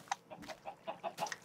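Chickens in the Minecraft video game clucking: a quick series of short, clipped bird calls in close succession, fairly faint and alone, with no talking.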